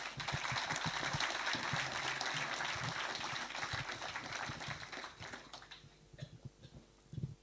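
A crowd applauds steadily, the dense clapping gradually thinning out and fading toward the end, leaving a few scattered claps.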